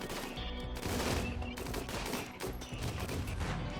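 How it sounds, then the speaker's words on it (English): Turrets fire in the video game Rimworld, a dense, continuous burst of rapid gunfire that stays loud and steady throughout, layered over background game music. "this side is just going to get shredded by the turrets"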